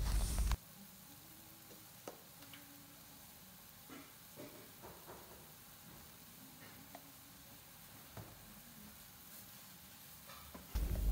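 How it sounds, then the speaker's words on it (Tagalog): Ground beef seasoned with soy sauce and seasoning powder sautés in a pan, a quiet, steady sizzle with occasional soft scrapes and stirs, fairly distant and low in level throughout. "Ituloy lang po natin sa paggisa ang ating ground beef hanggang mag-dry ito."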